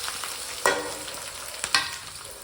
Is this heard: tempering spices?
yes